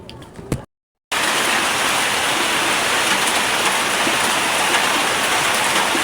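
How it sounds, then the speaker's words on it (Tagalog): Heavy rain pours down steadily in a loud, continuous hiss of drops on surfaces, after a brief moment of quieter sound and a short gap of silence. "Umuulan na nga rin pala ng mga oras na to."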